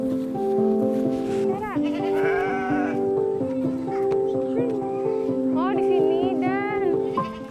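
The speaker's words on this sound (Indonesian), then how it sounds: "Ada 7 ekor kambing dan domba yang Dani pelihara." Several goats and sheep bleat in a pen, their wavering calls rising repeatedly over a steady low hum, loud and close throughout.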